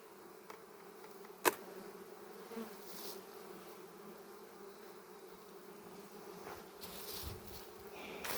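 A low, steady buzz of many honey bees hums continuously at close range from an open hive, with a sharp click early on and occasional rustling.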